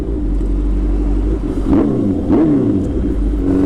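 A 650 motorcycle fitted with an Arrow full exhaust revs up sharply twice over a loud, steady idle rumble, heard up close with no talking.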